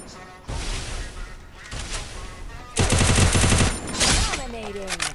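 Rapid automatic gunfire in the Free Fire mobile game, dense loud bursts of shots in several long volleys, with someone talking over the shooting.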